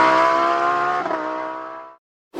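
A Bugatti Chiron engine in the video game BeamNG gives a loud, tonal rev that holds and slowly falls away, cuts off briefly, then a short burst returns.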